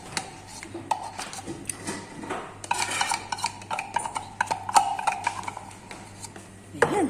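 Macaroni salad with raisins being mixed in a bowl, a run of close, irregular scraping and clinking strokes with no talking over them.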